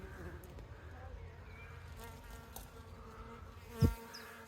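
Bees buzzing among flowers on an allotment, a soft, intermittent hum of insects in a quiet outdoor setting, with one louder, close pass near the end.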